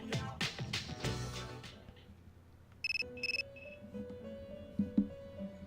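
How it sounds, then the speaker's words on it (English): A cell phone rings in the video game Persona 3, a short burst of bright electronic ring tones repeated twice, followed by a soft melodic chime over quiet game music. "Your cell phone is ringing."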